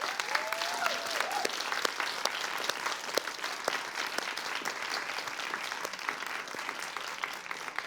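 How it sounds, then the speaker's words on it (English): An audience at a women's awards ceremony claps for the winners, steady sustained applause with crisp individual hand claps throughout and a brief faint voice at the start. "Please join me now in a final rousing round of applause to all of our winners."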